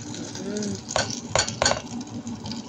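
Squid heads sautéing in a pan for a noodle topping, a soft steady sizzle with a few sharp stirring scrapes and clinks of a utensil against the pan, close by with light talk over it.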